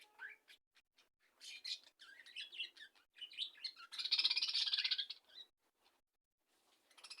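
Budgerigars in a cage chatter in short, scratchy chirps that come in quick bursts. A louder run of chirping comes near the middle, then it thins to a few faint tweets.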